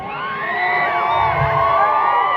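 A comedy show audience cheers and whoops loudly, many voices rising together in a dense, continuous burst of excitement that lasts only a couple of seconds.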